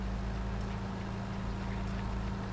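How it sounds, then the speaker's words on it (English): A tractor engine in Farming Simulator 19 drones steadily and loudly, a low, even rumble with stable harmonic tones held throughout, pulling an implement across a soybean field. "I like using this tractor for this"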